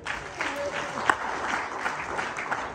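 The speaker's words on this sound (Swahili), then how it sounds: "Kwa Bwana makofi." A church congregation clapping in praise, a steady, dense patter of many hands that carries through the whole moment with a voice faintly underneath.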